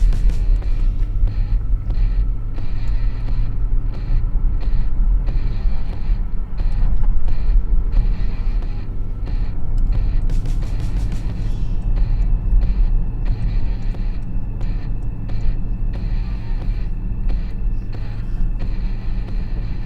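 Porsche Panamera 4 E-hybrid from 2018 driving with a steady, loud, low engine and exhaust rumble that holds for the whole stretch, with no talking over it.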